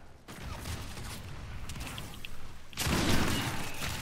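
Gunfire in Call of Duty: Infinite Warfare, a dense continuous burst of shots with a heavier volley near the end, loud and close with mechanical clatter in between.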